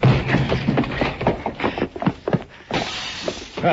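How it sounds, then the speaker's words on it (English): Window glass shatters as men crash out through the front window of a building, a run of sharp breaking and crunching impacts in quick succession, close and loud, with scattered debris after. "They crashed out through the front window, Mr. Dillon."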